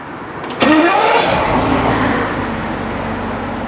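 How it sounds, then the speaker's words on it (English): A BMW 750iL engine cranks briefly and catches, then settles into a steady idle that drops slightly in level after a couple of seconds. "Let's turn it back on and see if it does anything now"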